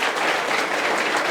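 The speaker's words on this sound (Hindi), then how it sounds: "स्टूडेंट्स बैठे हैं वो भी तालियां बजाएं" Dense, steady applause from students seated in a coaching class fills the whole moment, loud and continuous with no pauses.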